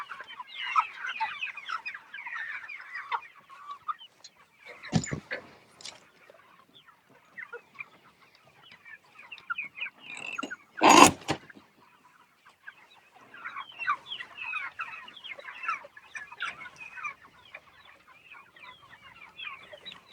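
A flock of meat chickens on a farm clucking and murmuring softly in continuous chatter, with a couple of sharp louder knocks or bangs breaking through midway.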